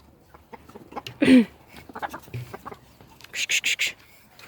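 Chickens cluck nearby inside a coop, one loud squawk followed by scattered clucks and a rapid run of sharp calls, in an otherwise quiet space.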